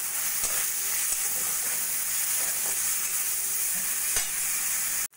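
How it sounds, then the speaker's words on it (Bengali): Ginger-garlic paste with tomato and ripe chili paste sizzles steadily in a pan as a masala is stir-fried for doi potol, with a continuous bright hiss and occasional faint stirring scrapes, ending abruptly. "সব কিছু ভালো করে মিশিয়ে মশলাটা কষিয়ে নেব।"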